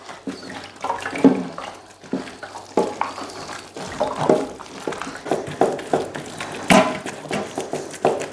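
Water splashes and pours in irregular bursts while something is washed by hand. The sound is close and uneven, with no speech.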